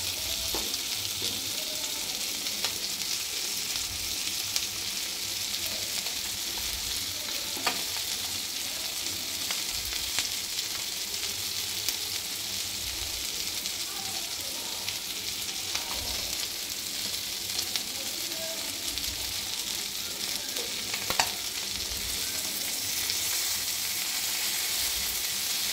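Sarputi fish frying on a tawa, a loud steady hiss of hot oil that runs without a break, with a few faint clicks along the way.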